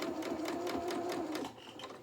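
A sewing machine runs steadily while top stitching the waistband of a pair of small jeans, its fast needle rattle close and even before easing off slightly near the end.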